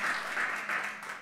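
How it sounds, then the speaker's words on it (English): A big crowd claps at a college opening session in an auditorium, a dense, sustained wash of applause that swells in slight waves and holds without a break. "clap a big round of applause for everybody who's here"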